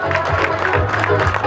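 Applause and crowd noise at a cycling enduro award ceremony in Teror, a dense steady clapping throughout, fairly loud.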